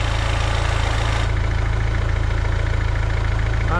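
A Renault Kangoo 1.5 dCi diesel engine runs at a steady, loud idle with a clutch release bearing fault, its close, continuous rumble carrying a faint rhythmic knock.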